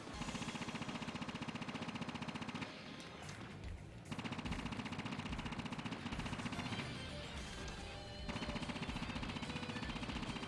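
Sustained automatic gunfire in the game Assault Suit Leynos hammers against a mech's shield in long, loud, rapid bursts, briefly broken by a short gap before resuming at full intensity.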